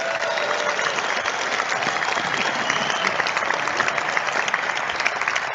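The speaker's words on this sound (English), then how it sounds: "a big round of applause for Carolyn Goodman" A studio audience at a Las Vegas sports talk show breaks into dense, sustained applause that fills the room evenly from start to finish, with a voice faintly audible beneath.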